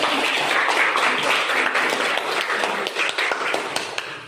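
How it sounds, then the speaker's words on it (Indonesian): Classmates clap for a student during a science lesson on static electricity, a fairly soft, steady run of scattered claps in a classroom that tapers off at the end. "Kasih tepuk tangan"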